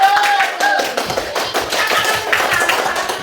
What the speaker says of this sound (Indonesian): Oke, beri dulu tepuk tangan dulu.